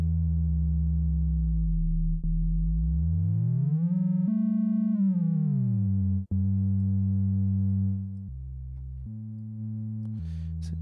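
A sustained synthesizer pad with smooth gliding pitch sweeps rising and falling, then stepping between held chords, steady and fairly loud with no voices.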